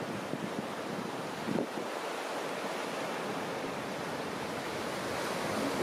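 Steady wash of ocean surf rolling onto a sunny beach in Mazatlan, Mexico, in January, with wind buffeting the microphone throughout; no voices, just continuous near, broad noise of breaking waves.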